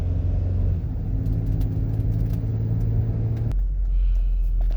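A van rolls along the road with a steady low engine rumble and road noise, its tone dropping abruptly partway through as the engine eases off.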